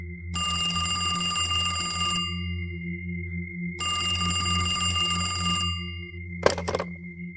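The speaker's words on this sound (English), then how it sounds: "the phone rang again" An old-style telephone bell rings in two long bursts with a short silent gap between them, loud and close, followed by a brief clunk near the end.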